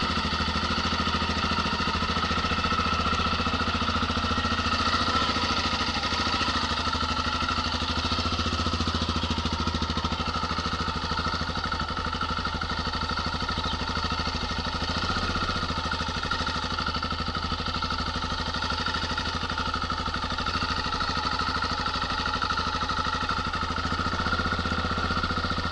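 Motorcycle ridden across the Australian outback from Airlie Beach toward Alice Springs, its engine a steady, loud, unbroken drone with wind roar for the whole stretch and no talking.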